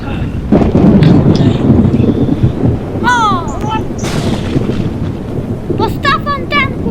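Thunder rumbles through a heavy storm with gusting wind and rain, loud and close, while people talk and shout over it.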